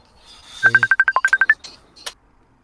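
A telephone rings in a quick burst of about a dozen bright electronic pulses, close and clear, followed by a couple of short faint chirps and then quiet.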